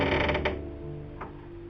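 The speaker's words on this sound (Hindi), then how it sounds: "लेकिन तभी दरवाजा अपने आप खुल गया।" A door swings open on its own in a horror cartoon, giving a short creaking, mechanical groan over a steady low droning backdrop.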